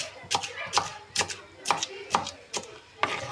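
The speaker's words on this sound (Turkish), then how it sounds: "Şimdi marulumuzu doğruyoruz." A knife chops through crisp lettuce leaves against a cutting board, about seven even strokes in a steady rhythm, close and fairly quiet.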